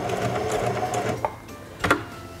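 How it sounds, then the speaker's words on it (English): A Heavy Duty 4411 sewing machine runs steadily in reverse, stitching backwards with a continuous mechanical whir, followed by a couple of brief clicks from the reverse lever. "Press and hold the reverse lever and sew backwards a few stitches."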